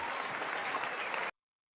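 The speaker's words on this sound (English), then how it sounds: "Applaud that brother." Audience applause after a comedy bit, a dense, steady wash of clapping at full strength for just over a second before cutting off abruptly into silence.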